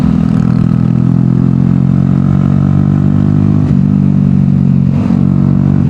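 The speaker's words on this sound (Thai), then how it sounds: "วันนี้เน้นมาขับรถซิ่ง" A Honda MSX motorcycle engine revs hard and steadily while being ridden fast, a loud, continuous close-up drone with small pitch shifts and no talking.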